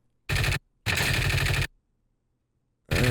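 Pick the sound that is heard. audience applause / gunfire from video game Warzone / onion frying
gunfire from video game Warzone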